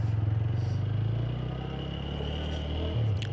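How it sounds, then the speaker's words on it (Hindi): Motorcycle engine while riding along the NH51 highway on a coastal trip from Bhavnagar to Somnath, a steady low drone with a slight rev change near the end, no talk over it. "आई होप कि बाइक का साउंड भी आ रहा हो"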